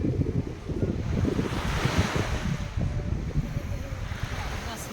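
Surf rolling onto the shore of Lake Ladoga at a lakeside campsite among pine trees, a steady broadband wash of breaking waves mixed with gusty wind noise on the microphone, continuous and fairly close, with no talk.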